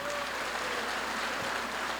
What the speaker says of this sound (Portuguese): aplauda a Deus